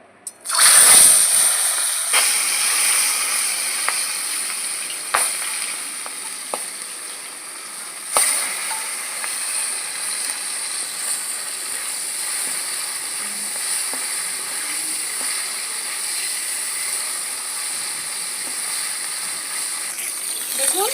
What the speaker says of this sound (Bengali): কড়াইয়ের তেল ভালো মতন গরম হয়ে গেছে মাছগুলো এখন আমি ছেড়ে দেবো